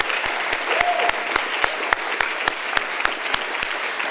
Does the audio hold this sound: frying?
no